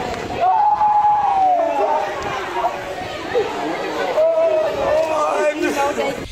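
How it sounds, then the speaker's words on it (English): An angry crowd shouts and chatters outside a courthouse as handcuffed women accused of murder are led past; several voices rise and overlap in a loud, continuous babble. "the handcuffed women walked past the angry crowd"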